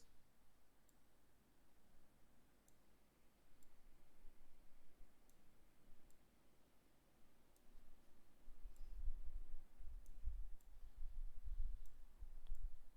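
Computer mouse clicks while rectangles are dragged in software, sharp light ticks spaced about a second apart, close and faint over a soft room hiss, with some low thumping in the later part.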